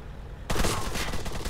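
Sudden, loud rapid gunfire erupts after a quiet moment in the ARMA 3 alpha, a sustained stream of close shots in a military combat game.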